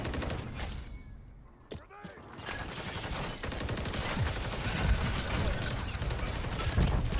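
Dense, continuous gunfire and clattering effects from a Call of Duty MW3 multiplayer match run almost throughout, briefly dipping before resuming loud and busy, with a player talking over the action.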